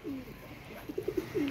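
A pigeon, one of a fancier's flying birds, gives a short run of soft cooing notes, rising to a quick pulsed series near the end over faint background noise.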